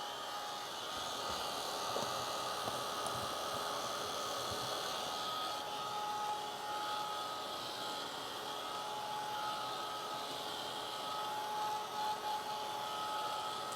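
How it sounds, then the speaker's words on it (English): A Ranger heat it crafting tool blows hot air to dry paint, a steady, moderately quiet whirring hum with an airy hiss that holds constant throughout, no voices. "this is a heat it tool, Ranger heat it crafting tool, and you can just dry this"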